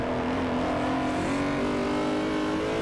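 GT2 race car in a multi-class event in Forza Motorsport 4, a loud, steady engine drone holding a high rev, continuous and close, with other cars packed nearby.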